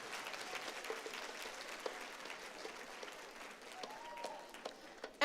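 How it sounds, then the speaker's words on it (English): A graduation crowd at a Black graduation ceremony applauds the graduates' parents and families, a steady wash of clapping heard from some distance, with faint cheers rising briefly near the end. "please give a round of applause for your parents, your families, your support system today"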